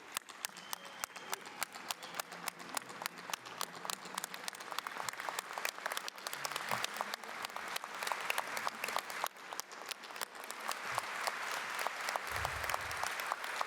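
An audience applauds the inductees at an Alabama high school sports Hall of Fame induction ceremony, a steady, even wash of many hands clapping in a large hall that holds up throughout.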